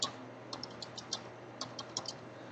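Password being typed on a computer keyboard, about nine quick, light key clicks in small irregular bursts over a quiet room hum.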